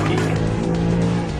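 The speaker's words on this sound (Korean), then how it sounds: "자, 드리프트 들어갑니다. 드리프트 갑니다. 드리프트 가요." Car tires squeal in a long, loud, steady skid while drifting in Euro Truck Simulator, with an engine droning beneath.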